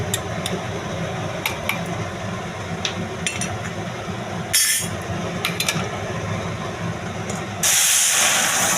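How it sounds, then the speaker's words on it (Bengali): A hot tempering of asafoetida (hing) is added to arhar lentil dal, giving a steady steamy hiss with a louder sizzling burst midway and a stronger, sustained sizzle near the end. No voices are heard. "এবার আমি ডালটা ফোড়ন দিয়ে দিচ্ছি"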